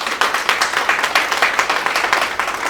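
An audience at an RCM business gathering claps in a strong, regular rhythm. Distinct pulses repeat several times a second, loud and close, with no talk over them.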